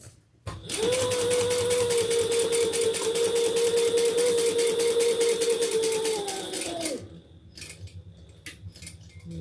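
A sewing machine back-stitches a handbag lining in a fast, buzzing run of close, rapid stitches, lasting about six seconds before stopping abruptly, followed by faint handling clicks.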